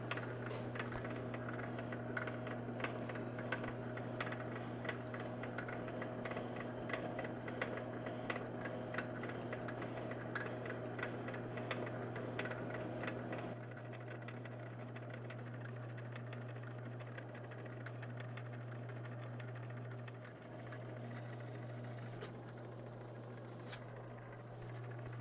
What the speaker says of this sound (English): Let's turn the lathe on and see what happens.